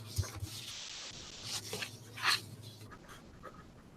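Quick writing on paper, faint scratchy strokes of a pen coming in short uneven bursts, with a slightly louder scribble near the middle and no speech.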